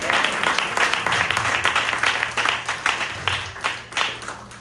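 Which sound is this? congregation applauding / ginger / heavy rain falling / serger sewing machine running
congregation applauding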